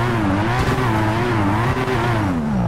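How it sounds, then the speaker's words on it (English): A car drifting in GTA 5, tyres squealing steadily under a continuous droning engine with wavering pitch, loud and close for the whole stretch. "I'm gonna drift around it though"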